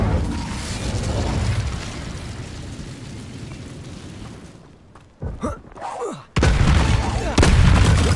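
An Incendio fire spell cast in Hogwarts Legacy roars as a loud, sustained whoosh of flame. A short dip follows with crackling bursts and pops, then the blaze surges back at full strength.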